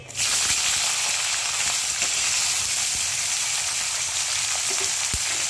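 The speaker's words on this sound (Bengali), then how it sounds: "শিম আলুটা এখন একটু ভাজা ভাজা হবে।" Flat beans and potato sizzle steadily in hot oil with nigella seeds, a loud, even crackle close by with a few light utensil clicks near the end.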